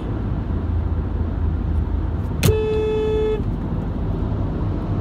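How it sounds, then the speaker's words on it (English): A car horn gives one loud, sustained blast of about a second, honked at a truck towing a long horse trailer that nearly hit an SUV, over steady road and engine rumble. "I'm sorry you guys heard my horn because he almost hit me"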